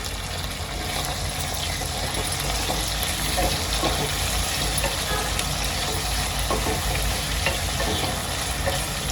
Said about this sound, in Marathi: सर्वांना आता चांगलं एकत्र करून घेते तेलामध्ये चांगलं परतून घेते